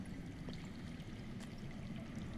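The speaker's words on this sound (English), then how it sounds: "That's water. I hear water. From underground." Underground water flowing in the Game of Thrones Telltale video game, a continuous rushing, trickling stream heard at a steady moderate level with faint splashes and drips, no voices.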